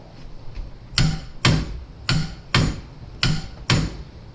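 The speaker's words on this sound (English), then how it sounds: "I'll get 3 clicks to make sure that it's nice and tight." A torque wrench tightening a caliper bracket bolt to 125 pounds on a Dodge Caravan's front brakes, giving six sharp metallic clicks in a steady, evenly spaced rhythm, close and distinct with no talk.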